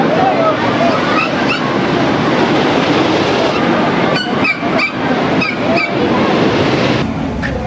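The Big Woody wooden roller coaster at Knoebels amusement park races along its track in a loud, continuous roaring rumble, with sharp clacks and rattles breaking through near the end.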